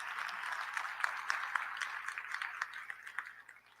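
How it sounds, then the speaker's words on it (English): Applause from the audience at a university charter day convocation, a moderate, even patter of many hands clapping that thins out near the end. "So let's give him a round of applause as well."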